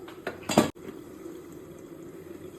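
Cashews and raisins fry in coconut oil for a green chilli chicken biryani, opening with a short clatter of a utensil against the pan, then a steady low sizzle.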